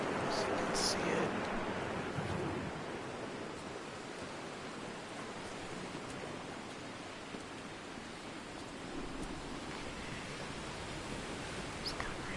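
Steady surf and wind wash across a coastal island in the game Dear Esther, a broad continuous rushing roar that stays even throughout, slightly louder at the very start.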